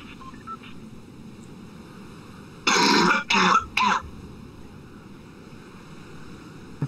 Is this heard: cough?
yes